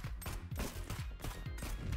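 Rapid gunfire from the slow-motion shooter Superhot, a dense burst of repeated shots with regular heavy thumps roughly every quarter second, loud and close with no talking.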